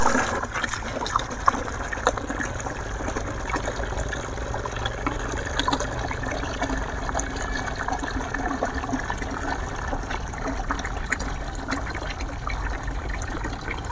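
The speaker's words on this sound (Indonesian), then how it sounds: "Kita buka keran dulu." Water runs from an opened tap in a steady, continuous gushing stream for about fourteen seconds, filling a container while liquid organic fertilizer is prepared for avocado plants, close and alone without speech.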